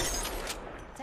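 A short, sharp burst of gunfire during an Apex Legends match, a quick crack followed by a fading rattle, close and loud for about a second.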